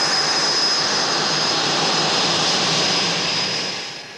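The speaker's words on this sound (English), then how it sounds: "As Jim taxis out, Mirko returns for a touch and go." Steady, loud jet aircraft engine roar at Boscombe Down, a test pilot school airfield, as a plane taxis out, holding a sustained broadband whine with a high tonal component before easing off slightly at the end.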